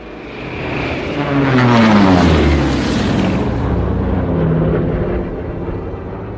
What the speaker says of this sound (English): Yeah, I think that's our plane.